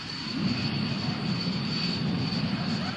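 A Panavia Tornado ground attack jet of the Royal Air Force, its engine a steady, continuous broadband roar that holds loud and even throughout with no voices.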